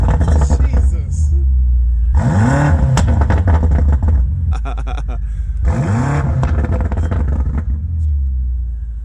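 A BMW M8 850i in sport mode is revved twice, each burst a deep, loud rising roar that drops back to a rumbling idle. People talk over the engine between and during the revs.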